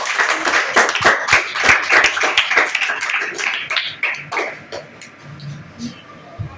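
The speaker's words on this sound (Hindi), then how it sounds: "जागृति के लिए सब लोग ताली बजा रहे हैं।" A group of people in a classroom claps for a girl on her birthday with quick, uneven claps that thin out and fade, leaving quieter sounds at the end.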